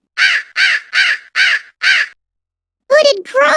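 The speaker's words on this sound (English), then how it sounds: "Hooded crow." A hooded crow caws five times in a steady, evenly spaced series of harsh, loud calls, followed by a pause and a couple of rougher, throatier croaks.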